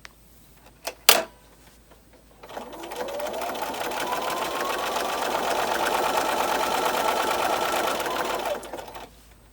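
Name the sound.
sewing machine stitching a quilted casserole dish hot pad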